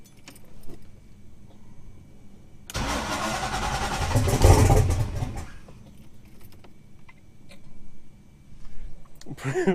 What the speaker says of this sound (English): got the battery charged up, sitting in the car, about to give it a turn